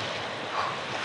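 Black Sea waves at the shore in Chernomorskoye, Crimea, giving a steady broadband wash of surf with wind noise, close and continuous, with no voices.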